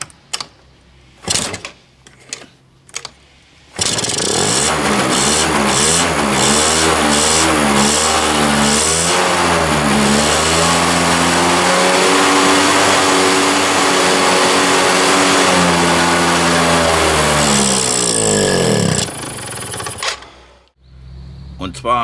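A twenty-year-old Malaguti Yesterday 50 scooter with fuel leaking from the carburetor overflow sputters to life after a few brief taps, then runs with a buzzing, wavering two-stroke drone that rises and falls in pitch for about fifteen seconds before cutting off.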